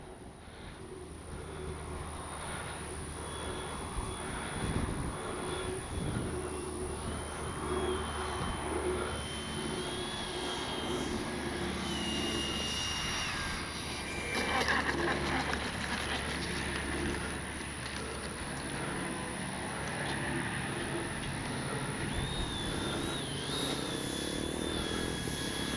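An E-flite 70mm Viper electric ducted-fan RC jet is heard in flight and on approach to land, a steady distant whine of the fan that swells and fades as the model passes, with faint outdoor background noise and no talk.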